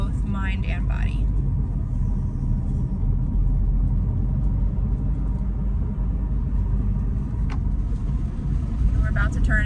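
A car drives on, turning into a home driveway, its low steady engine and road rumble running throughout beneath someone talking.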